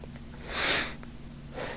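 One sharp sneeze bursts out near the mic, a brief breathy blast with a fainter sniff after it, over a low steady background hum.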